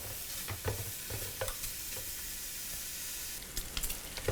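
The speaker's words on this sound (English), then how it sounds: "we're gonna go ahead and crisp this bacon up" Bacon crisps in a multifunction cooker with a steady low sizzle, broken by scattered soft scraping taps of stirring that grow busier near the end; no one speaks.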